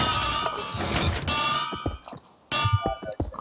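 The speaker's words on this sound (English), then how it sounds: "It's called TNT cannon, which I'm firing it into the middle of nowhere." A TNT cannon fires in Minecraft, sounding as a run of metallic clangs and thunks with ringing tails, briefly dropping near-silent before another loud hit.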